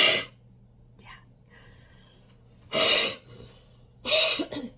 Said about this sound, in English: If I could just clear my throat one more time to finish this story.